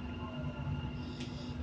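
Ride aboard a Dubai Metro train heading to Rashidiya, a steady rumbling hum of the moving carriage with a brief faint hiss near the end, no talking.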